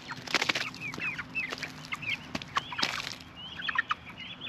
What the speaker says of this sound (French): Allez, on nourrit poulet.